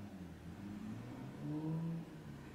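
A car engine revs up steadily, the pitch climbing and swelling louder for a moment before easing back to a continuous mid-range drone, heard nearby with no talking over it.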